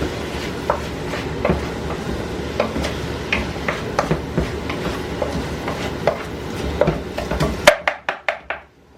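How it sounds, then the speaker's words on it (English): Vegetables for beef stew are sautéed in a pan: a steady soft sizzle broken by repeated scraping and stirring clacks of a utensil against the pan, ending in a few sharp taps, close up with no talking. "So we're just going to saute this."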